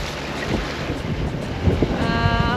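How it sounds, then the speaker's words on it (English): A sailboat running at around five knots on open sea sailing away from Bora Bora, with steady loud wind rushing across the microphone over the wash of water and waves against the hull. "I'm sailing away from Bora Bora, around 5 knots average."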